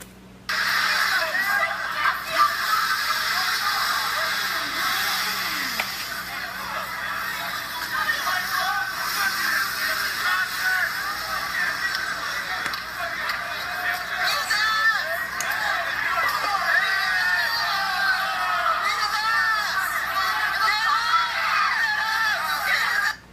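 A protest crowd at UC Berkeley screams and yells without pause, many raised voices overlapping into a harsh, chaotic roar close by.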